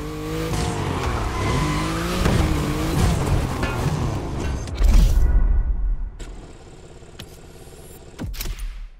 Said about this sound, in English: Downtown hypercar battle.